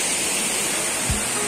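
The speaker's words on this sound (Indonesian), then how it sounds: "Selamat datang di air terjun lukisan" Steady broadband rush of Air Terjun Lukisan waterfall on Gunung Gede Pangrango, a constant moderate hiss of falling water with a brief low thump near the end and no speech.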